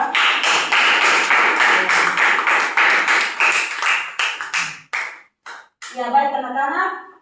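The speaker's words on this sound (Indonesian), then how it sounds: "kita beri aplaus untuk kelompok 2" A classroom group gives a round of applause for group 2, dense and steady at first, thinning into a few scattered claps before stopping, followed by a voice speaking.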